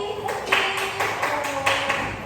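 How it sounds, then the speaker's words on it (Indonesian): A primary school class claps for a classmate in a rhythmic pattern of distinct beats, several spaced claps at moderate loudness, with a teacher's voice faintly underneath. "Oke, tepuk tangan buat Mas Rizky."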